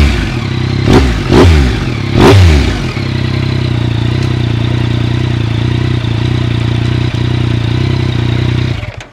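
A motorcycle held in first gear at a standstill is blipped three times for exhaust pops, giving loud rising revs that fall back, followed by a steady, rumbling idle close by.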